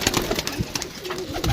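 Domestic pigeons coo close by in a series of soft, throaty calls, several rising and falling over a steady background of rustling and movement, with no talking.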